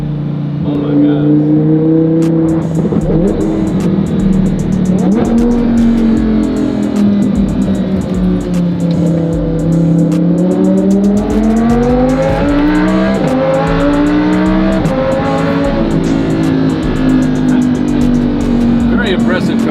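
A Lamborghini Huracan engine roars through hard pulls, its pitch climbing and falling with gear changes in a loud, sustained, near rumble that fills the whole stretch.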